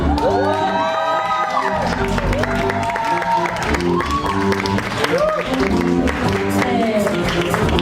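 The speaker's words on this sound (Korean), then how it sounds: "큰 박수로 맞이해 주십시오." Audience applause and cheering welcome a trot singer onto the stage at a salsa spring party, a dense, steady roar of clapping and shouts with music-like tones layered throughout.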